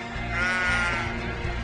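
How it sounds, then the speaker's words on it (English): A single sheep in Australia bleats loud and close, one sustained wavering call that fills nearly the whole moment with no talking over it. "It's the sheep."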